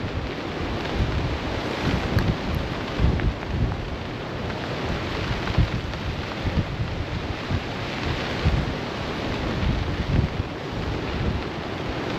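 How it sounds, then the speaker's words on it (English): Strong wind roars steadily over a tarp and bivvy camp in heavy weather, a dense, buffeting rush with gusts hitting the microphone and no pauses. "My God, this wind is getting stronger."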